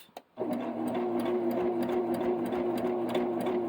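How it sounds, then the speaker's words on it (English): After a brief click, a sewing machine starts and runs continuously doing decorative stitches, the motor whirring with a rapid, even needle chatter, close and steady. "This is a great place to use your decorative stitches on your sewing machine"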